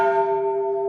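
A large brass temple bell at a Shiva shrine rings with a steady, sustained metallic tone, strong clear partials humming evenly and slowly fading over a second, close and loud with no voices.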